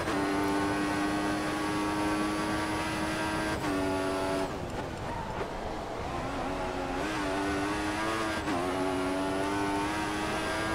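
Williams Formula 1 car engine in the F1 2014 racing game, a loud, sustained high-pitched whine held near constant, dropping sharply at gear shifts and climbing again, with no voices.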